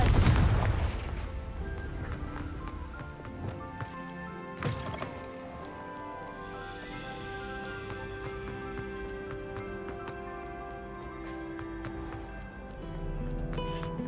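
A Confringo fire spell blasts in Hogwarts Legacy, a heavy boom at the start followed by a smaller impact and a long sustained rumbling, ringing game soundscape.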